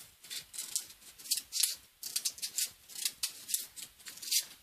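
Scissors snip through a strip of material for a homemade helmet, a quick run of close, sharp cutting clicks in an uneven rhythm, fairly quiet with no talking.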